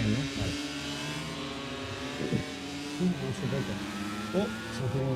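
A motorcycle engine in the MotoGP video game drones with a steady tonal whine, rising and falling in pitch as it revs, while voices talk over it throughout.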